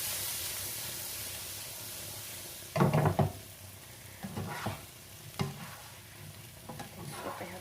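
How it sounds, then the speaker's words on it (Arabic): Vegetables sauté in a hot oiled pan with lemon and salt, giving a soft steady sizzle with a few louder bursts of hissing and stirring scrapes. "غادي نصوطي هاد الخضيره ديالي"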